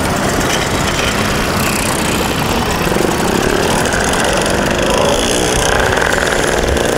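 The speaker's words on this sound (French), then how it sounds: "Et puis moi j'ai enfoncé le Solex." A Solex moped engine runs at a racing circuit, giving a loud, steady, buzzing drone that fills the whole stretch without a break; no one speaks.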